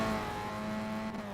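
Race car in a sim racing a 1990 ATCC event at Bathurst, a brief close engine drone with a steady pitch that shifts slightly as it passes, with no talk.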